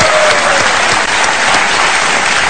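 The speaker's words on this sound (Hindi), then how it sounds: "इनके लिए मैं चाहता हूं कि एक बार जोरदार तालियां बजाए।" Dense, steady applause from a studio audience on a television quiz show, loud and continuous from start to end with no voices over it.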